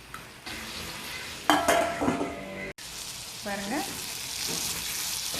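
Brinjal for a podi curry fries in a pan with a steady sizzle, some metal pan and spoon clatter, and a voice speaking briefly over it.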